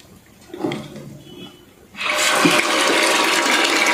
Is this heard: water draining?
yes